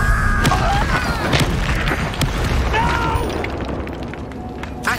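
Confringo explosion spell in the video game Hogwarts Legacy: a burst and booming blast near the start followed by several thumps and crackles, loud and close, with game sounds behind.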